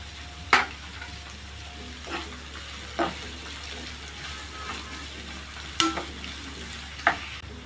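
Onion and potato frying with garlic in a pan: a low steady sizzle runs underneath, with a few sharp clinks of a utensil against the pan scattered through, close up.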